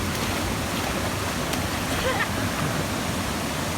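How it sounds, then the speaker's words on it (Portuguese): Waterfall at Cachoeira Guaratuba on Brazil's northern coast, a steady, dense rush of falling water heard up close and filling the whole stretch at an even level, with faint speech nearly buried beneath it. "Chegamos aqui no topo da cachoeira."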